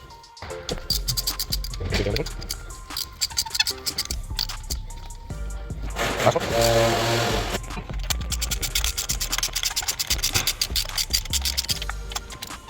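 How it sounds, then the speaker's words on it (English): A 3/8 ratchet turning a 5/8 socket to break loose a spark plug on a 2011-2016 Chevy Cruze or Trax 1.4T engine, giving repeated close clicking and scraping with short metallic rattles amid workshop handling noise. "It's a 5/8 socket and a 3/8 ratchet like this. Let's break the spark plug free."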